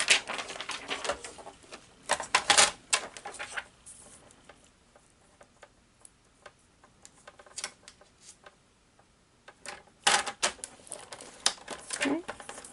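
Scissors or a trimmer cutting through plastic laminating sheets for craft die storage pockets, sparse crisp snips and ticks in a quiet room, with clusters of cutting near the start and end.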